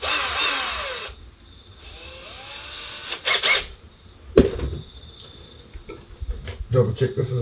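A power drill backs a standard Phillips screw out of a Nissan Maxima door card, giving short whirring bursts with clicks and handling knocks between them, close up and fairly loud.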